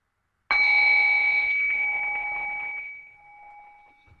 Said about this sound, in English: So I have my bell here. I'll just ring the bell, and I'll bring us in.